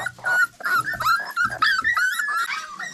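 Several hungry Kelpie–Blue Heeler cross puppies whimper and yip in high, overlapping cries, close by and fairly loud, with brief growls mixed in.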